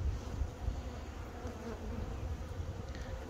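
Honeybees buzzing steadily around open hive frames at a rapeseed apiary site in April, a dense continuous drone close by with no talk.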